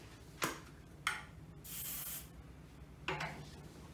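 Hair Cube waterproof hair sealer and control sprayed from a can in four close hissing bursts: three short puffs and one longer, steady spray in the middle, with no talking.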